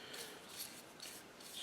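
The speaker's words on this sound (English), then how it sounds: "while the high spots will get sanded off" Sandpaper of 80 grit rubbing back and forth over a wooden air rifle stock, a HW30, in steady dry rasping strokes, close and fairly quiet with no talking.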